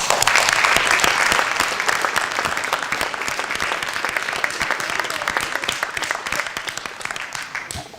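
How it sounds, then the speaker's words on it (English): A board of education meeting audience gives a round of applause, dense crowd clapping that starts strong and slowly thins over several seconds, moderately loud in a hall. "And a swim round of applause for him"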